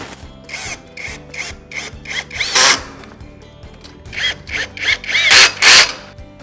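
Power drill tightening bolts while assembling a CyberRack S2/S3 rack, two close, loud bursts of whirring drill runs with rising pitch and ratcheting clicks, separated by a short pause.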